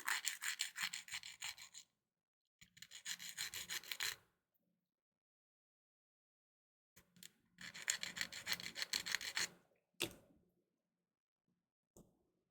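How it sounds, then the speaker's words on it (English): A small miniature part is sanded by hand in bursts of quick back-and-forth rasping strokes, close and fairly quiet, separated by silent pauses and ending with a few isolated scrapes. "You'll need to probably just sand off the rest."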